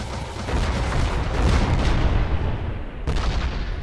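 A grenade launcher in the Techguns video game mod fires repeatedly in quick succession, producing a dense, loud barrage of booming blasts and explosions that blur together, with a brief dip near the end before another blast.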